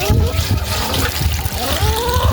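Water runs and trickles noisily close by while farm animals are watered, a continuous splashing flow with faint voices mixed underneath.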